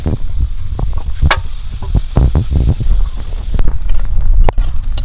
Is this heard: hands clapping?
no